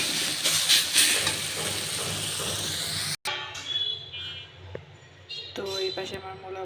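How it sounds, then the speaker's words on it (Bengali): Sliced radish fries in a pan with a little sugar added, giving a loud steady sizzle and hiss for about three seconds before it cuts off and someone talks over quieter cooking sounds. "মূলা ভাজা প্রায় শেষের দিকেই।"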